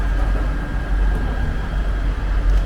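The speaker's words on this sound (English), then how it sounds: "that noise you hear behind the train right now is traffic on the Bronx River" A steady low rumble of distant road traffic on the Bronx River roadway heard from the Bronx Zoo monorail, constant and broadband, with no voices and no distinct individual vehicles.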